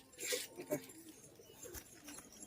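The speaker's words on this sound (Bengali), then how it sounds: "সবই বাজির পায়রা আছে সব বাজির পায়রা" Soft giribaj pigeon coos and a quick rustle come from close by inside a loft, with light clicks and a faint murmur of voices.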